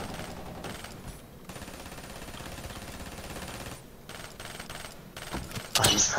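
Video game pistol fire: a steady run of rapid shots under a busy game soundscape, loud throughout, with a sharp crack at the very end.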